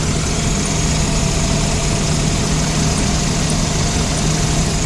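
A 1984–89 Toyota Van Wagon engine idles steadily on its own after a fuel pump replacement, a continuous close low rumble with even vibration and no pauses.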